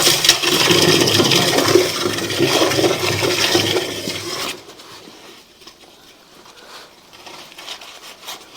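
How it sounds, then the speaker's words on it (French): Water rushing and gushing loudly as a rainwater drain pipe is rinsed out, a steady splashing torrent that cuts off abruptly midway and leaves a faint dripping trickle. "Un petit rinçage s'impose dans un premier temps."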